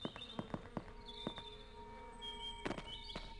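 Bees buzz around a bee nest in the video game Hype: The Time Quest, a steady faint insect drone with sharp, repeated game clicks and taps scattered over it, and no talking.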